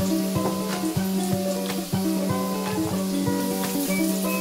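Eggplant sisig frying in a pan for a crispy finish, a steady loud sizzle with bursts of clatter and stirring scrapes repeating throughout, with no talking.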